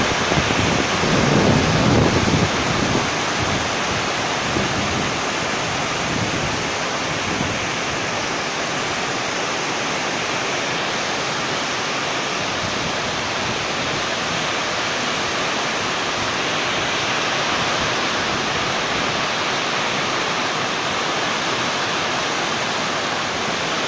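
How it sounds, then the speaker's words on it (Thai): Heavy rain and strong wind pound a sports dome beside a canal, a loud, steady roar of broadband noise with a gusty rumble in the first few seconds, continuous throughout with no voices. "ฝนตกหนักมากๆเลย"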